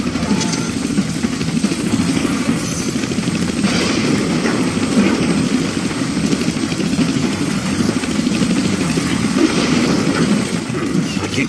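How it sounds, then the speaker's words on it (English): A helicopter in the Deadpool video game drones continuously with a loud, steady rotor and engine rumble, no pauses and no voices. "Damn, they found the helicopter's on switch."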